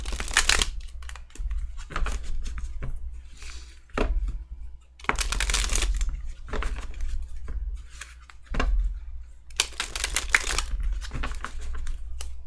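Tarot cards being shuffled in repeated bursts of riffling and flicking, with short pauses between each pass; close and fairly quiet.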